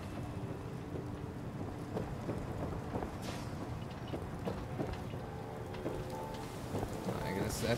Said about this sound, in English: I like how the rain comes in here, too.